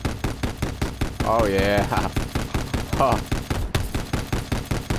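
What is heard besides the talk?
gun firing from a boat in the video game Fortnite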